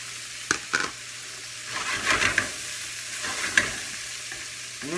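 Peppers and celery sizzle steadily in a pan with a constant frying hiss, while a spoon scrapes and clinks in a few brief stirring bursts close by.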